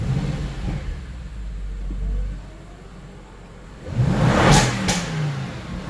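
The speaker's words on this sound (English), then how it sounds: "And now we can start the vehicle as normal." An Audi RS6 engine fires up and revs after being unlocked through an immobiliser, a loud burst rising near the end after a quieter idle-like rumble.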